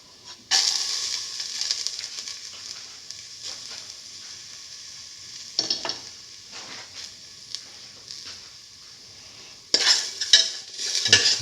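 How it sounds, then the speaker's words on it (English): Garlic sautéing in a pan with a utensil stirring and scraping, soft sizzling beneath intermittent clinks and scrapes, louder bursts at the start and near the end. "now put in the garlic"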